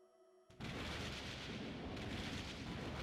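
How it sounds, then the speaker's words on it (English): Thunder booms in the video game Code Realize. A few quiet musical tones give way to a sudden loud crash, then a sustained rolling roar that stays strong to the end. "The thunder booms again, louder than ever."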